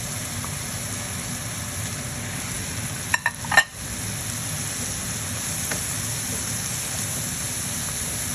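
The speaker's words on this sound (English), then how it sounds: "So you want to just still stir it up, because this green onion, you need to cook it up as well." Silkworms stir-frying with green onion in a pan, a constant even sizzle like light rain, broken once near the middle by a couple of sharp utensil scrapes.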